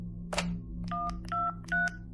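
Telephone dialing tones in a true crime podcast: three short, clear touch-tone beeps in a steady sequence, preceded by a brief click, over a faint low hum.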